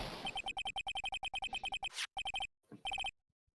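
Cell phone ringing in an Ace Attorney game, a fast chirping electronic ringtone of rapid repeated beeps in bursts, with a short swoosh and a gap before a final burst, loud and alone.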